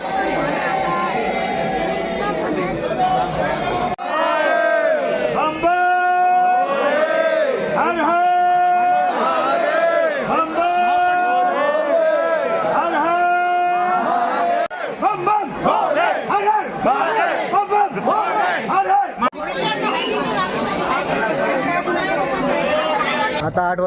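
Dense crowd hubbub at Mahakaleshwar Temple in Ujjain, a loud continuous mass of voices with raised shouts and chanting-like cries rising and falling, people talking nearby throughout.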